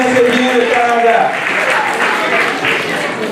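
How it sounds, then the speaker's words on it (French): Applause from the audience at a live Haitian trivia challenge in Paris rises after a correct answer, a loud wash of clapping with a voice audible over the start before the clapping carries on alone. "Applaudissez s'il vous plaît, c'est bien le Canada."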